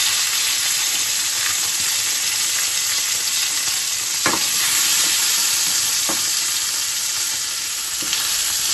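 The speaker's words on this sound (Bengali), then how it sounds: "এরপর দেব সামান্য যে টমেটো কুচিয়ে রেখেছিলাম সেই টমেটোটি।" Chopped tomato fries with cloves and cardamom in a pan for prawn malai curry, giving a steady loud sizzle broken by a few sharp stirring scrapes, alone without voices.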